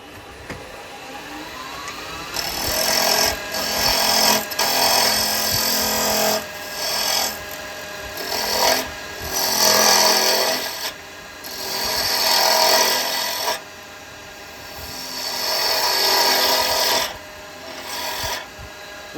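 A wooden spindle shaped on a lathe with a 5/8 spindle gouge for a pop-fit pot, giving a steady loud rasping, scraping cut that swells and eases in repeated passes against the lathe's running hum.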